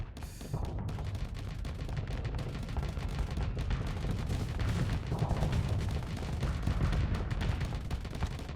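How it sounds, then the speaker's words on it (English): Dense, continuous weapons fire from flak guns and torpedoes in the space combat game Starsector, a steady loud barrage of overlapping bursts and booms with no pauses. "Okay, the flak took out the torpedo there."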